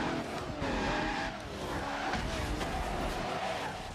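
Tires skid and squeal on an Enzo Ferrari in the Project Gotham Racing 2 video game, with a steady engine roar underneath and a few sharp screeches over four seconds.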